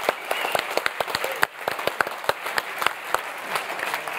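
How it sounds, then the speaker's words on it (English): Panel audience at a crypto debate forum breaks into applause, a few dozen people clapping with sharp individual hand claps standing out over a dense bed, close and fairly loud, steady for several seconds. "Let's get a big round of applause."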